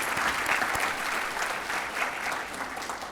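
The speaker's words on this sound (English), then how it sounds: "Please give them a round of applause." Audience applause at a teacher of the year banquet, a steady wash of many hands clapping close by and fairly loud, without a break for the whole stretch.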